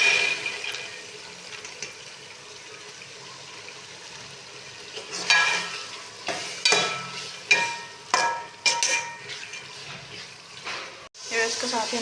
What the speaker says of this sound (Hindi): इसको अच्छे से मिक्स करेंगे और हम इसको 2 से 3 मिनट के लिए अच्छे से भूनेंगे।